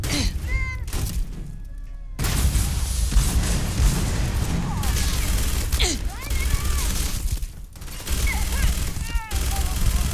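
A grenade blast and rapid gunfire crackle through a Starfield firefight, with booming impacts and sustained shooting over several seconds while voices shout.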